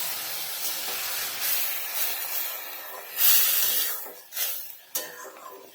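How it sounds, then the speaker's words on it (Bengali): Water goes into a hot pan of cooking cabbage and potato, raising a broad hiss of steam that surges and fades in a few bursts, close and fairly loud, with no talking. "তো বেশ কিছুক্ষণ কষানোর পরে এবার আমি জল দিয়ে দিচ্ছি।"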